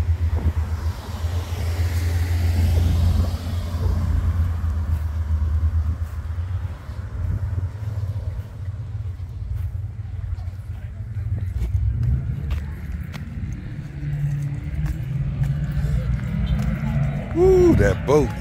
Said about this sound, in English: That speedboat is nice. I know you can hear it.